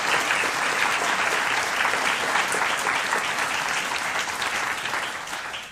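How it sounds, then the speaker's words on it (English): A big audience at a book talk claps steadily and loudly, the applause holding strong before tapering slightly at the end. "I think that deserves a round of applause"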